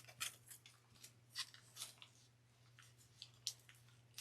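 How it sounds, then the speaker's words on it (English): Scissors cutting craft material straight across for a homespun primitive gingerbread arrangement, giving a series of quiet, close snipping and rustling cuts in an uneven rhythm over a low steady hum. "So I'm just gonna cut this off straight."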